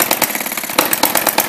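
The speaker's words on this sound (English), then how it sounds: "here we are running at what I think is the correct speed for a hit and miss engine" A small hit-and-miss oscillating engine runs on a tabletop that resonates like a drum, giving loud, rapid, slightly uneven chuffing beats with a brief surge partway through.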